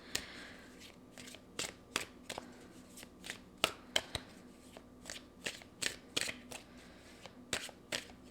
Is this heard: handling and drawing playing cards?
yes